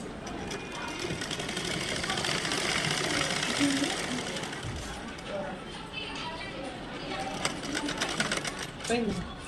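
A sewing machine stitching fabric by hand-guided work on a tailoring job, a steady mechanical whirring that runs continuously throughout, with people talking over it.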